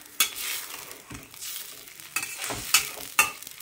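Spoon stirring fish pulusu in a pan, a steady scraping swish with sharp clinks against the metal at intervals, close and alone.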